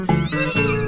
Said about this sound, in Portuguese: O gato miou de medo